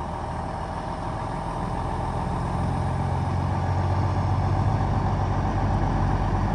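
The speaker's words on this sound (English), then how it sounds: "This is a 2019 Kenworth with a Cummins." A 2019 Kenworth truck with a Cummins engine and 13-speed transmission, pulling a walking-floor trailer, rumbles steadily as it pulls out, a continuous diesel drone that swells slightly toward the end, with no talk.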